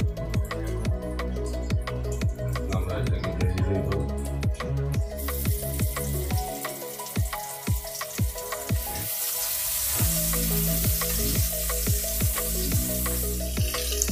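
Shrimp rubbed with turmeric and salt fry in about half a cup of oil, a loud crackling sizzle with dense popping spatters that swells into a brighter, steadier hiss, close, with no speech.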